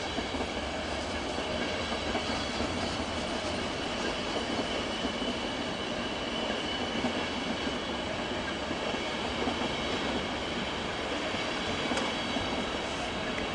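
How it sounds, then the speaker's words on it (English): An Austrian intercity train hauled by a Eurosprinter Taurus locomotive approaches, a steady rolling rumble with rail noise and faint wheel clatter that holds throughout with no talking. "Here's another Austrian intercity service. Well, this one's actually in service. Got a Eurosprinter Taurus at the front."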